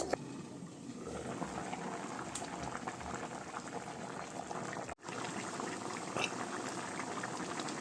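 A covered curry of elephant yam and prawns boils steadily in a pot, a soft continuous bubbling and simmering hiss with a faint knock partway through.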